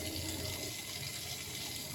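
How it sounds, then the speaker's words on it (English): Hot water runs steadily from a bathroom tap into a sink during a beard-care routine, a constant broadband rushing flow that stays close and even throughout with no talking. "some hot water on my face"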